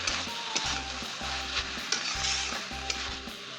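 Fenugreek leaves sizzle steadily in a pan while a spoon stirs them, giving soft frying crackle broken by light scraping knocks of the utensil against the pan.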